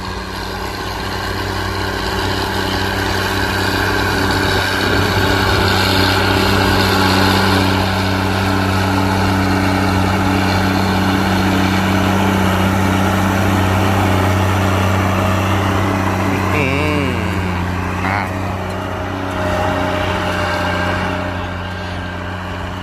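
A Ford farm tractor used for ploughing runs its engine steadily at a loud, constant low throb, with a faint rattle and a brief squeak partway through.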